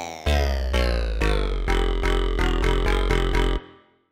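Croaky, frog-like synth patch recreating the lead from a track, built in Massive: about ten punchy, buzzy stabs in a quick rhythm, loud and up front, ending in a short decay.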